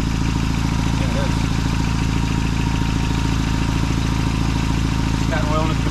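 An engine idles steadily at close range, a low even rumble that holds throughout with faint clatter and murmured talk underneath; the engine has oil in the combustion chamber.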